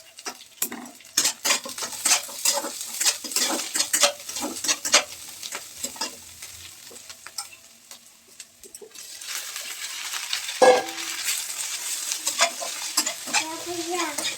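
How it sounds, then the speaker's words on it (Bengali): Boiled pasta is stirred in a frying pan, with repeated scraping and clinking of a utensil against the pan over a light sizzle, close and busy, in irregular bursts. "সিদ্ধ করা পাস্তা ঢেলে দিয়ে এভাবে নেড়ে ছেড়ে নেবো"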